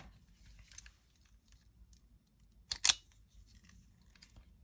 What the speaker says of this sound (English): And then we'll get my wire strippers out.